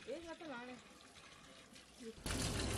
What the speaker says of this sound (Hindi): अब हम पानी स्ट्रेनर में की मदद से चिकन से स्ट्रेन कर लेंगे और इसे अच्छे से वॉश कर लेंगे